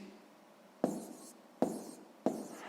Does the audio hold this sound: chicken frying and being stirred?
no